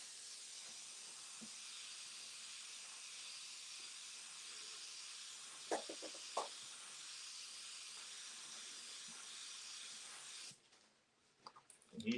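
Steady hiss of candy purple paint spraying onto a mini truck, continuous and fairly close for about ten seconds with a couple of brief knocks, then cutting off into quiet with faint handling noises.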